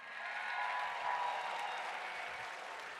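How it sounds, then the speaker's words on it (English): Audience applause for Trisha Yearwood and Garth Brooks at a live opening ceremony: a steady, moderately quiet wash of many hands clapping that holds evenly for three seconds, with no voices over it. "Let's give a big round of applause to Tricia Yearwood and Garth Brooks, everybody"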